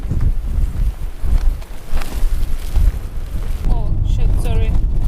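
Wind gusting across an outdoor microphone while a flimsy structure is set up in blustery weather, a continuous loud low rumble throughout, with a brief voice-like sound near the end.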